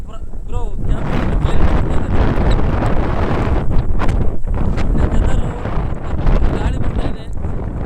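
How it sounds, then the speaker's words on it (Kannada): Gusty wind during heavy rain batters the microphone in a loud, continuous roar outdoors, with rain noise underneath and a person talking over it. "ಗಾಳಿ ಬರ್ತಾ ಇದೆ."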